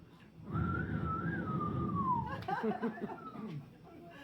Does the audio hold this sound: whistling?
yes